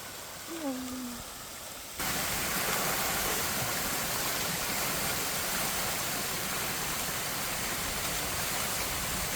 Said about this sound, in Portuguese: Tem até uma cachoeira.